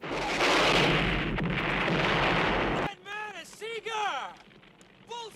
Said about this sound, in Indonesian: Pasukan itu memutuskan untuk meledakkan tempat itu dengan peluncur roket.